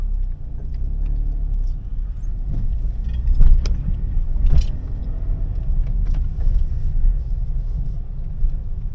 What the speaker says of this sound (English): Car behind you.